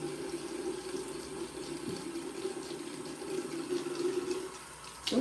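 Hot water runs from a bathroom tap into a sink in a steady, fairly quiet stream for several seconds, with no one talking.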